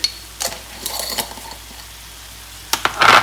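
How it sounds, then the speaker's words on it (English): Cumin seeds pop and sizzle in a hot pan for lamb keema, with scattered crackles and light clicks over a faint frying hiss, close by and fairly quiet between bursts. "as they're popping away there, also going to add a little bit more cumin seed"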